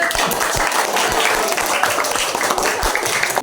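Applause from a classroom audience for a student presentation group, a dense steady patter of many hands clapping throughout, fairly close and moderately loud.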